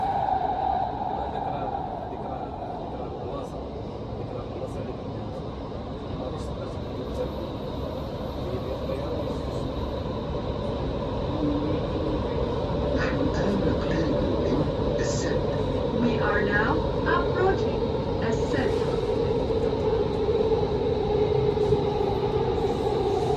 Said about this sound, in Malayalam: ട്രെയിൻ നെക്സ്റ്റ് സ്റ്റേഷൻ എത്തിക്കൊണ്ടിരിക്കുകയാണ്.